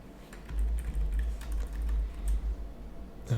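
Soft, faint keystrokes on a computer keyboard tap irregularly over a steady low hum, close but quiet, with no speech.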